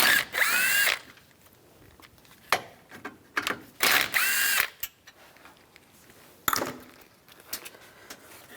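A power drill fitted with a 10mm socket backs screws out of a Honda CR-V A/C condenser fan shroud, several short loud whirring bursts separated by quieter gaps and light clicks, close up with no talking.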